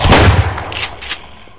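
A short, loud burst of AK rifle fire in a video game, a booming shot followed by a couple of quick follow-up cracks and a fading echo.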